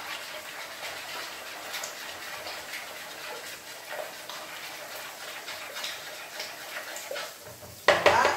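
Cream being stirred into a tuna and pepper crustless quiche filling makes a continuous scraping, sloshing texture in a bowl, ending in a louder clatter of utensil against the dish.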